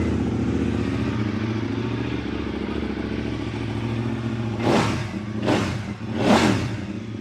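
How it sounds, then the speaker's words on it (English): Motorcycle engine running after a Rottweiler quick-change air intake install, idling steadily and up close, then blipped through three quick revs near the end. "Bike is up and running."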